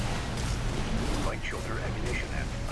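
Rifle fire rumbles through an Armored Core 6 mech battle, a dense, loud barrage of booming shots and explosions that runs continuously without a break.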